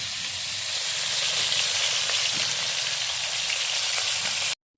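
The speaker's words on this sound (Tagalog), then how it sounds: "Manag-prito ang atong isda." Hot oil sizzles and crackles steadily as fish fries, a dense continuous hiss that cuts off abruptly at the end.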